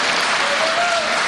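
Thick, steady applause from an audience at a 2014 municipal election debate in Aix-les-Bains: a continuous wash of many hands clapping at once, loud and even throughout.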